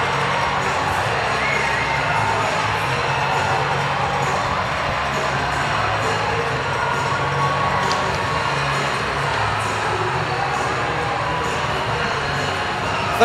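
A home crowd at a Binghamton Black Bears hockey game keeps up a steady roar of cheering and shouting after a hat trick, a dense arena noise that holds without letup.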